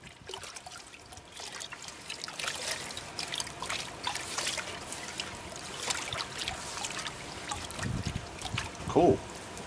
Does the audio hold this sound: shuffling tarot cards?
no